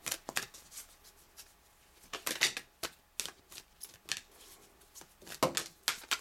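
Angel Oracle cards shuffled by hand, quick papery riffles and flicks in short bursts with gaps between, close and fairly quiet.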